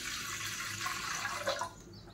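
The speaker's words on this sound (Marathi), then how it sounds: "गॅसवर मी असं एक पातेलं ठेवलेलं आहे, त्यामध्ये पाणी टाकून घेणार आहे" Water splashes and gurgles steadily into a metal pot sitting on a gas stove, a close, continuous pour that cuts off near the end.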